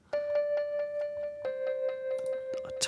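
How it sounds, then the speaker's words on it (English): Rhodes electric piano drenched in heavy effects, holding a sustained tone under a regular, rhythmic pulse of repeated struck notes, with a brighter chime near the end. "a little Rhodes with some effects"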